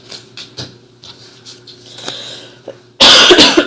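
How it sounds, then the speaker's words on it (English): A sudden burst of loud, harsh coughing near the end, preceded by quieter breathy noises and faint background sounds. "I'm sorry I keep coughing, you guys."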